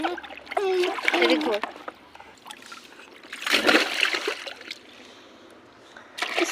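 Water splashing and trickling close by as a child bathes at home, with broadband bursts of splashing between and under children's chatter.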